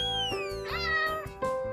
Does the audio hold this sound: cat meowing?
yes